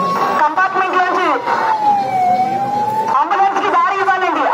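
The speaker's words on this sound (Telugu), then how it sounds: "అంబులెన్స్ కి దారి ఇవ్వాలండి. అంబులెన్స్ వస్తుంది," An ambulance siren wails up close through a crowded Ganesh immersion procession in Khairatabad, moving between rapid warbling and a long sweeping tone while someone talks over it.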